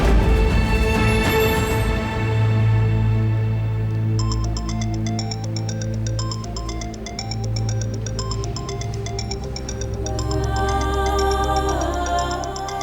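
A phone ringtone chirps in a repeating electronic pattern over a steady background of music, fairly loud and continuing for several seconds.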